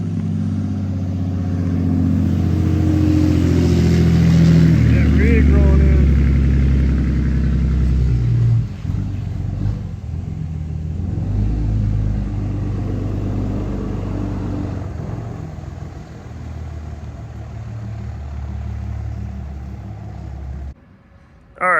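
A first-generation race truck climbs a hill, its engine rumbling loud and steady with revving surges as it approaches, then the sound cuts off abruptly near the end.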